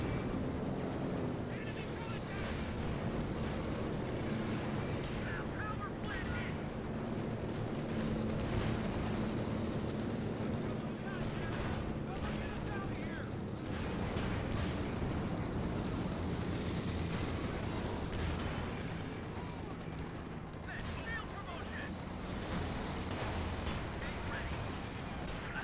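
Mortar blasts and gunfire from a Company of Heroes 2 1v1 match rumble in a dense, continuous battle wash, with thuds and crackles under steady commentary talk.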